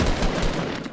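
Rapid gunfire bursts in a Fortnite Battle Royale match, dense overlapping shots filling the whole short moment at close range, with no talk.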